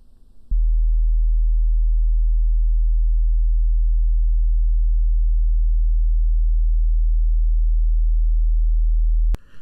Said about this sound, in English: Let's listen to 40 hertz.